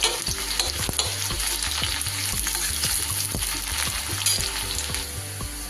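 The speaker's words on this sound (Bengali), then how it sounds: "পেঁয়াজ বেরেস্তা সব সময় আপনারা এরকম চড়া তেলে করবেন। তেলটা খুব গরম হলে তবেই ছাড়বেন পেঁয়াজটা।" Sliced onions frying in very hot oil for crisp fried onions, a loud dense sizzle with rapid crackling and a rhythmic run of spatula scrapes and taps against the pan throughout.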